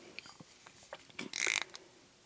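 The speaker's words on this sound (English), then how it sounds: "plus another one of those small ratchets" A small ratchet from a 711L tool kit is handled up close, giving faint scattered clicks and light mechanical taps, then a short burst of rapid ratcheting clicks near the middle, with no talking.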